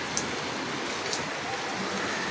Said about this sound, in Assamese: ইমান ধুনীয়াকৈ দি আছে পিনপিনীয়া বৰষুণ